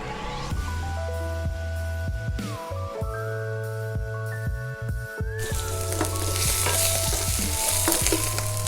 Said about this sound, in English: Once the pan is hot, put the vegetables in.